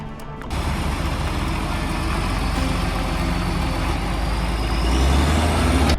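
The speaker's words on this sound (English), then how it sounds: "Have you ever seen a heavy-duty truck struggle in deep, endless mud?" A heavy-duty truck engine labours in deep mud, a loud, continuous low rumble starting after a brief quieter moment, swelling in strain near the end.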